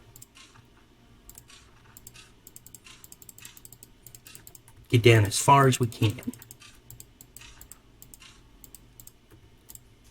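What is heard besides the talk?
mouse clicking while digging in Minecraft video game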